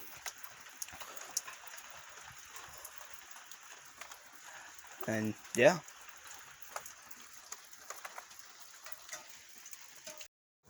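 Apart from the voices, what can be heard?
rain falling outside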